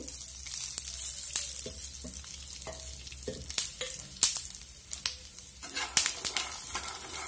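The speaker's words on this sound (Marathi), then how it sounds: "तर शेंगदाणे भाजून व्यवस्थित क्रिस्पी होण्यासाठी आपण त्याच्यामध्ये थोडंसं तेल किंवा तूप घालणार आहोत।" Peanuts roast in oil or ghee in a pan for sabudana khichdi, a steady sizzle broken by sharp pops and clinks of stirring, close and fairly loud, building toward the end, no talking.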